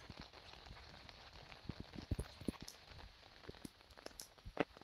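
Steady rain falls outdoors among many trees in Hong Kong, a continuous wash of drops with scattered louder taps and splashes growing denser through the clip, no talk.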